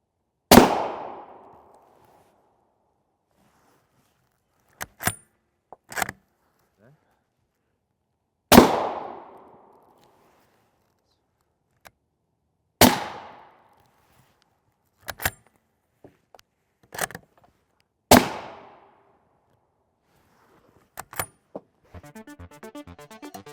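Four loud .300 Winchester Magnum rifle rounds (M80A1-style ball) slam into LA Police Gear multi-curve NIJ Level IV body armor, each a sharp crack with a long ringing decay, interspersed with fainter metallic clicks and rattles between shots.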